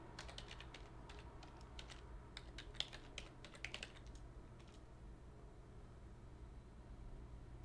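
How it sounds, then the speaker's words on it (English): Soft computer keyboard typing of an email address, scattered clusters of quiet close key clicks over a low steady background hum, trailing off into near silence at the end. "I'm going to type a different email address here."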